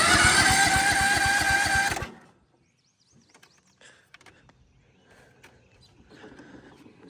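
A Cub Cadet lawn mower engine cranks on its starter, a loud, steady churning burst for about two seconds before stopping abruptly, followed by faint clicks and rustling.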